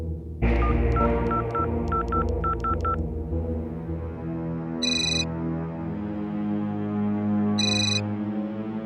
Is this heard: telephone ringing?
yes